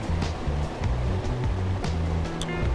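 Fast-flowing current of the Cisadane river, a steady, close rushing wash of water that fills the whole moment without pause or voices.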